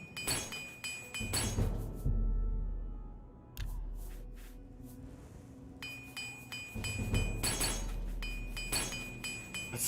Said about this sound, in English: Let's fix up all my gear because I'm just busted at this point.